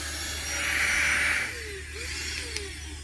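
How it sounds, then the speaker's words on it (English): A new vacuum cleaner runs with a steady broadband whir that swells loudly for about a second and then settles to a lower hum. It carries on alone without talk. "I have a new vacuum cleaner."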